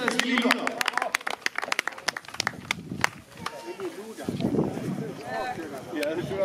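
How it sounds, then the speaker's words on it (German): Crowd applause at the GelsenTrabPark harness racing track in Gelsenkirchen for the winning driver Michael Nimczyk and the horse Photobox, scattered rapid clapping that thins out over a murmur of voices and talk. "Vielen herzlichen Applaus bitte für Michael Nimczyk und für Fotobox."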